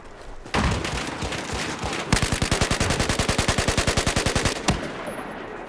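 Sustained automatic machine gun fire in Battlefield 4, a continuous loud burst followed by a rapid, evenly spaced string of individual shots for several seconds, with no voices over it.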